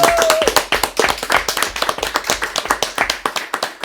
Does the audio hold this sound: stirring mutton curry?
no